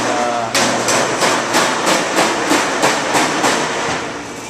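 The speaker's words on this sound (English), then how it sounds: "he's riveting down the brackets, like it's nice and sturdy" Metal brackets are riveted onto a sheet-metal roof gas vent in a metal fabrication shop, producing a loud series of about nine evenly spaced sharp bangs over a continuous mechanical hum.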